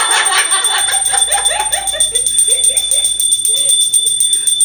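A handbell rung rapidly and loudly in a steady, continuous jangle, with voices overlapping the ringing throughout.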